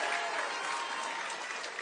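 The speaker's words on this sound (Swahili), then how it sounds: "tupigie baba makofi" An audience claps at a Kenyan political unity event, a dense, even burst of applause from a crowd that holds steady for a couple of seconds.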